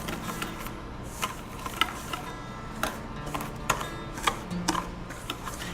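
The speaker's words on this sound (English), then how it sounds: "we're going to take a whisk and just mix that together so that it's all mixed" A whisk mixing banana bread batter in a bowl gives steady close scraping and irregular light ticking clicks against the bowl, with no talking.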